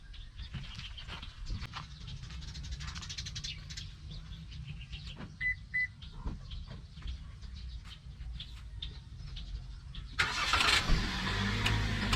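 A Toyota Rush driven slowly along a road and brought to a stop to park, its engine a low steady rumble with outdoor birds chirping faintly and a brief louder burst of noise near the end.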